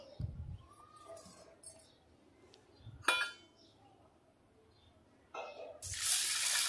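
Grains such as moong dal and red lentils being washed under a running tap, with bursts of gushing water and clinks against the vessel, near and fairly loud, alone without talk.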